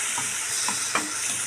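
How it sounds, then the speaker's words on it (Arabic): Tomato and onion stirred in a pan for chicken liver, a steady frying sizzle with a few soft spoon scrapes and one brief clack near the end. "نحركها مزيان جانس مطيشه مع البصله"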